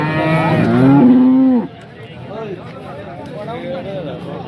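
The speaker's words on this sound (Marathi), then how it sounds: "आता आपण ही गाय कव्हर करतोय," A cow gives a loud, drawn-out moo up close at the Sangola cattle market, then a low hubbub of people talking and distant animal calls carries on in the background.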